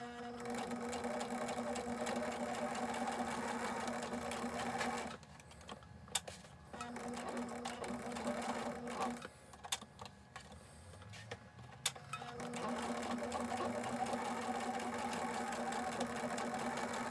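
A sewing machine stitches a pocket onto an apron skirt in a steady, close mechanical whir, stopping briefly midway with a few clicks before running again.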